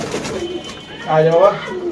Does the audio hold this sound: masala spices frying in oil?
no